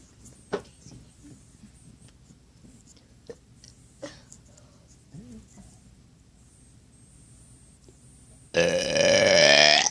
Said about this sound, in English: I'm not very good at burping.